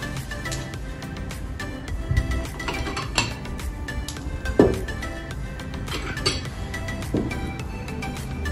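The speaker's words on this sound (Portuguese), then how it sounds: "Então agora vamos distribuir os nossos pratos de sobremesa." Ceramic dessert plates set out one by one on a snack-spread table, giving light clinks and soft knocks at irregular intervals, close and moderately quiet over a faint background.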